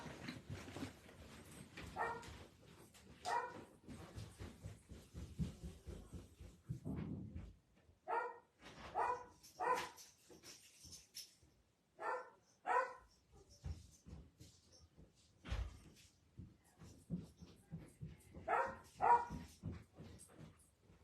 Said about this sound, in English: The dogs are going to bark.